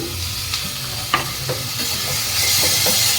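Mustard and poppy seed paste sizzles in a hot pan while a utensil stirs it. The close steady hiss is broken by a few sharp scraping clicks, and the sizzle grows slightly louder toward the end, with no speech.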